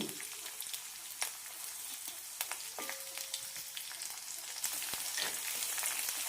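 Chopped garlic and a small piece of ginger fry in a pan while making street-style masala poori, a faint, steady hiss with scattered crackles and a few sharp pops, close and alone without talk.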